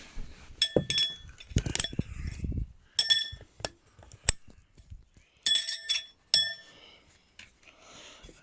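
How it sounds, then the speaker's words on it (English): Folding stand base of a vintage Philips Comfort HP4618 hood hairdryer, a series of sharp metallic clinks and light rattles in uneven bursts, close by in a quiet room. "And the actual base just folds up in itself."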